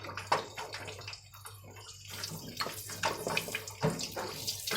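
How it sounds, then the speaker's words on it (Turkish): Two eggs sizzle and crackle in heated oil for a Şanlıurfa-style jam-and-egg breakfast, a steady close-up frying hiss with scattered sharp pops and no talking. "Yağımız ısınınca iki tane yumurtamızı içerisine ekliyorum."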